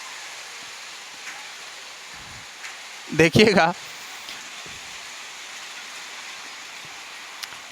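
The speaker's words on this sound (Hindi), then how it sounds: "बारिश स्टार्ट हो गई है" Steady rain falls outdoors as a broad, even hiss that runs through the whole stretch, with a brief spoken word breaking in partway.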